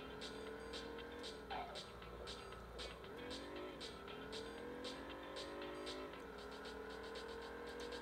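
A zippy car races through the city streets of Rio in the video game Driver 2, its engine droning steadily with shifting pitch, rhythmic clattering, and occasional tire squeals, loud and continuous with no voices over it.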